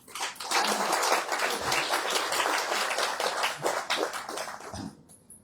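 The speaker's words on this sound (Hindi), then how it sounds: "केशव प्रभु ने कथा सुनाई, किसने ताली नहीं बजाई?" Audience clapping through a Kartik month kirtan and Harikatha gathering, dense steady applause from many hands lasting several seconds before tapering off at the end.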